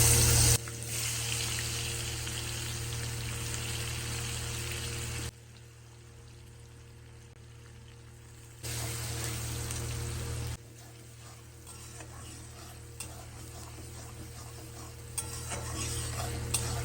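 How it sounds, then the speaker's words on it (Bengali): Onions sizzle and fry in hot oil in a pan for a Bengali potato chicken curry, a steady loud crackle with stirring, dropping quieter midway before surging again. "তেলের মধ্যে এবার আমি পেঁয়াজ দিয়ে দেবো।"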